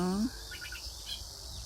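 Insects chirp steadily in the grass in a faint, high-pitched trill, with a short low tone fading out at the start, at a lotus park in summer.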